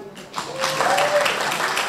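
An audience claps at a formal anniversary event marking the Korea–US free trade agreement, applause rising after a moment into a steady, dense wash of many hands, fairly loud and sustained, with a voice faintly beneath it.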